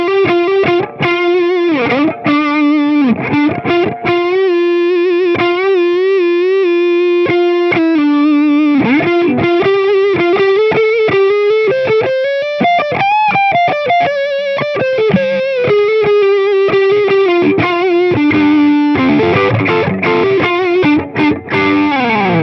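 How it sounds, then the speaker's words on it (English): Les Paul on the rhythm pickup driven through a Boss OS-2 overdrive/distortion pedal set midway toward distortion, playing a loud, continuous bluesy overdriven lead with sustained bent notes and fast runs, alone with no talking. "if I push the drive a little bit harder and I flick more towards the distortion, so now I'm right in the middle, you can get a really nice bluesy sound"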